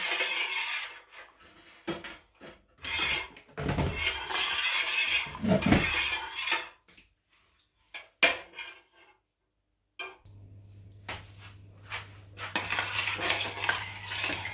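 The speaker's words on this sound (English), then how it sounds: "You need to keep mixing until it comes to a boil." A spoon scrapes and clinks around a pot while Jamaican cornmeal porridge is stirred toward a boil, in irregular close bursts with pauses, ending in a low steady hum under light scraping.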